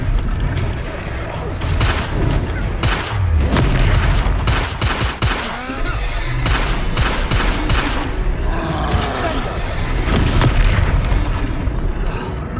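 Repeated Confringo fire spells blast in the Hogwarts Legacy video game, a loud, dense run of booming explosions and crackling bursts, with a voice shouting over them.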